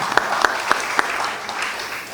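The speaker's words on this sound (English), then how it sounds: "Please, a round of applause for him." An audience at a press conference on new naira notes starts clapping, with a few distinct sharp claps opening into brief, light applause that quickly fades.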